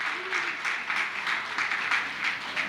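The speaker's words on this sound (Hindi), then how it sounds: "जनाब ताहिर फराज साहब के लिए जोरदार तालियां फिर से एक बार" Audience applause at a mushaira poetry gathering in Gulbarga, Karnataka, a steady wash of clapping from a crowd that holds at an even level throughout, with no voices over it.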